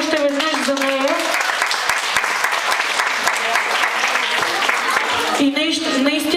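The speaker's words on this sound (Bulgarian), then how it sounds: "Моля ви аплодисменти още веднъж за нея." Loud, sustained audience applause fills a hall after a seven-year-old girl's folk-song performance, steady and close throughout, with a person speaking over it at the start and end.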